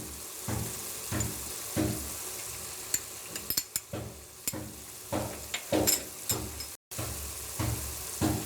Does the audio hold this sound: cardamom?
yes